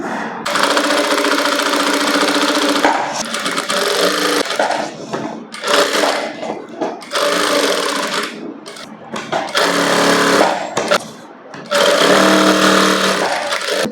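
A sewing machine stitching a princess cut blouse runs in several bursts of rapid mechanical whirring, close and loud, separated by short pauses as the fabric is repositioned.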